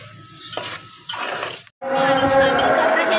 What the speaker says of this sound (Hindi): दो मिनट इसको कम आंच पे हम पकाएंगे ताकि दम हो जाए।